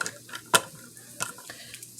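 Shrimp with tomatoes and onions cooking in a pan, with a faint sizzle under sharp scraping and clinking of a utensil stirring against the pan, about five distinct strokes spaced irregularly.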